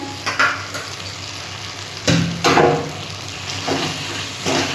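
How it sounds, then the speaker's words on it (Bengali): Spice paste of Kashmiri chilli, red chilli powder, sugar and a little turmeric fried in a pan for fennel-flavoured katla fish: a constant close sizzle with repeated scraping stir strokes, no voices. "মশলাটা আমি ভালো করে কষিয়ে নেব"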